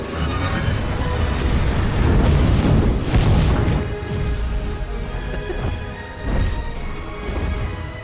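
Heavy booming crashes and rumbling blasts from explosions in Baldur's Gate 3, in a loud, dense stream, swelling and easing over several seconds with no talking.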